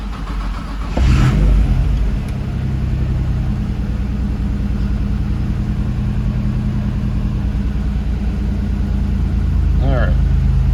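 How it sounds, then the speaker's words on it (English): A Nissan 300ZX car's boosted VQ35DE engine, still breaking in, idles with a low steady rumble, then revs up briefly and settles back, with a short whining rise near the end. "rev it up because it's still breaking in"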